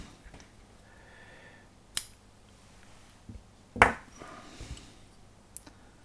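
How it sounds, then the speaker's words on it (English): Scissors snip thread on a wooden ship model build of the Vanguard Models HM Sherbourne, a few sharp isolated clicks, one louder cut near the middle, close and quiet with no talking. "Let me snip off a bit more."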